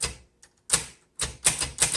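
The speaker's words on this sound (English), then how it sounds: "I just reversed the direction of my ribbon" A 1951 Underwood Finger Flite manual typewriter clacks as its ribbon direction is reversed: a few sharp, close mechanical clicks and snaps separated by short silences.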